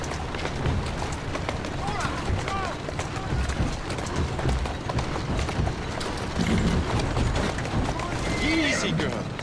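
Horse hooves galloping in Assassin's Creed Syndicate, a rapid continuous clatter mixed with game ambience and other noise, with a voice speaking intermittently.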